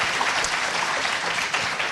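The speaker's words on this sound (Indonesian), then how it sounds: "Kita berikan aplaus sekali lagi." Audience applause on the Indonesian TV talk show Kick Andy, a dense, steady clapping from a studio crowd sustained throughout at full volume.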